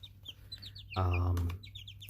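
Young backyard chickens peep and chirp in quick scattered bursts, then one louder, throaty cluck rings out close by before the small high chirps resume.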